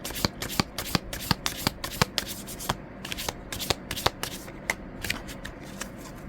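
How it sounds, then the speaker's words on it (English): Oracle cards being shuffled for a tarot reading, a close run of sharp riffling snaps and papery slaps repeating in quick irregular bursts. "I'm going to draw another oracle card here"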